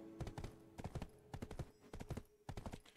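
Horse hooves clip-clop at a brisk trotting rhythm in the video game Black Desert Online, crisp repeated clusters of hoofbeats, quiet and close, with no speech.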